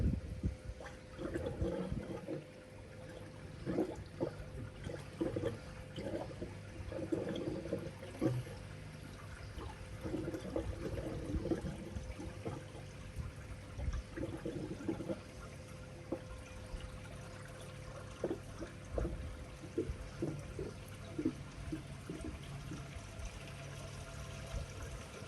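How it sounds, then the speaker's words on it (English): Water pours and trickles continuously at a low level into a koi pond, with irregular splashes and gurgles, fairly faint and a little distant. "I can hear water."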